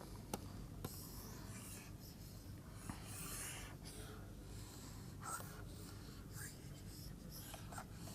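Eraser rubbing across a lecture board, a soft continuous scrubbing with faint strokes and occasional taps, close and quiet, with no talking.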